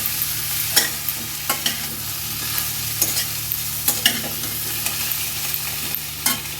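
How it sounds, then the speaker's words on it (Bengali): A pan of potato and pumpkin curry with freshly added chopped tomato sizzles under repeated spatula scrapes, a steady rhythm of clinks and stirring strokes close by, with no voices. "এটা দিয়ে একটু নাড়াচাড়া করে নিই"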